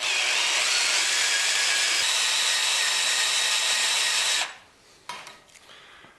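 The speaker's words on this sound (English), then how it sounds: "I'm drilling at a fairly slow RPM" Power drill boring through a washer into a steel angle-iron bed frame at a fairly slow speed, a loud steady whine and grind that stops abruptly, followed by a few clanks.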